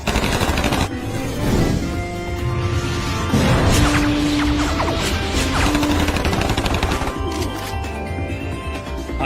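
Gunfire in a Hindi-dubbed animated cartoon: dense, rapid volleys of shots and crashing impacts fill the scene, loud and continuous throughout with no talking.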